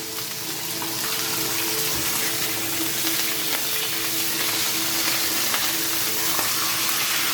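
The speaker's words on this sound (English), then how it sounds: "You got to make sure that that meat is seared on the outside" Pot roast meat sears in a hot pan with a loud, continuous sizzle. The spitting hiss stays close and even from start to finish, with no voices.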